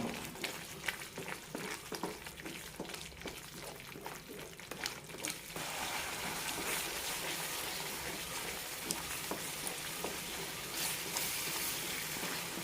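Kara chutney simmers and is sautéed in a pan, giving a steady close sizzle and bubbling with a few scraping stirs early on, then a more even, continuous frying hiss.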